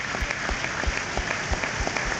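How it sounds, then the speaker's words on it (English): A football crowd at Meadow Lane applauds in a minute's tribute at a Notts County FA Cup match, steady dense clapping from many hands with a low thudding rhythm running through it. "Everybody around us applauding, everybody around us on their feet"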